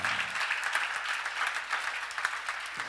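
A church congregation claps during a sermon on Second Corinthians, a steady, moderately quiet patter of many hands that carries on evenly with no voices over it.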